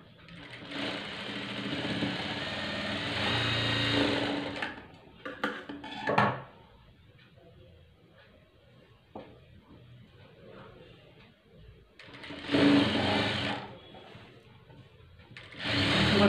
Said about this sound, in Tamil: இந்த எட்ஜில் வந்துட்டு தையல் போட்டுன்னு வரலாம்